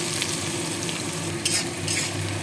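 Chopped onions fry in a pan for a vegetable stew, giving a steady close sizzle with a couple of brief louder bursts as they are moved.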